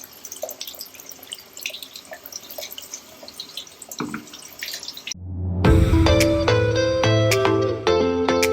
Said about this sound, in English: I've washed the sand